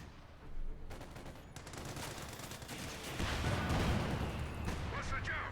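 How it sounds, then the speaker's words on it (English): Churchill Mark 7 infantry tank bombardment in Company of Heroes 2, a dense run of game gunfire and explosive blasts building into heavier booms partway through, with a voice talking over the battle. "Getting bombarded there by the Churchill Mark 7 infantry tank."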